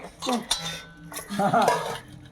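A young child washes dishes at home, with metal pots and utensils clinking and clattering in short bursts while voices talk over the clatter.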